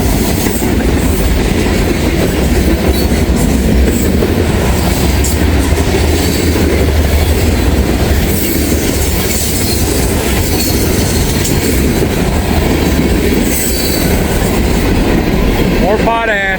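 A long freight train carrying potash rolls past in Walton, Kentucky, loud and close, with steady heavy rumble, clattering wheels and occasional metallic squeals throughout.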